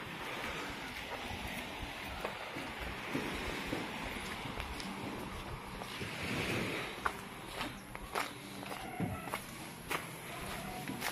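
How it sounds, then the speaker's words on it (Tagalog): Strong sea waves wash onto a shore in a steady, windy roar with gusting microphone rumble and a few scattered crunching steps toward the end, fairly faint overall and without talk. "Malakas ang alon ng dagat, oh."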